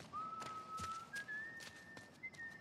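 Ellie whistles a thin, steady tune in The Last of Us Left Behind, set in a mall, the long held notes rising slightly partway through. Light taps and footstep-like knocks sound faintly beneath it, and no one speaks.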